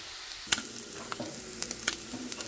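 Chorizo browns in a frying pan for choriquiles, giving a quiet, steady sizzle with scattered sharp clicks and scrapes of stirring, one louder knock near the start.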